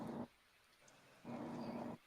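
A big dog growls in two low, rough rumbling bursts separated by a short pause, close and fairly quiet, with a third starting at the very end and no talk.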